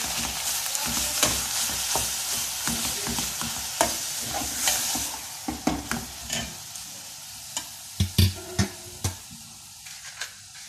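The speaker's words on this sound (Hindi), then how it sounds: "ये इस प्याज में कीमा डाल देंगे, इसको मिक्स करेंगे।" Minced meat (keema) being stirred into onions in a pan for Behari dum keema, with steady sizzling and frying under a series of sharp, close scraping stirs that grow more distinct toward the end.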